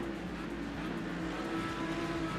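Audi GT3 race car engines in the iRacing sim, a steady, fairly quiet continuous engine drone with a low rumble throughout, no voices.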